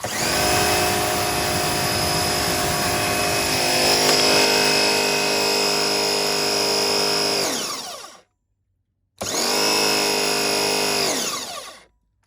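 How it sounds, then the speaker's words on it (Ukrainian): A TITAN TTB669PRW pressure washer with a leaking pump runs loud and close, a steady motor whine with a strong tonal hum that winds down, cuts out briefly, then restarts and stops again. "Зараз я ввімкну мийку і ви зможете побачити, як вона протікає."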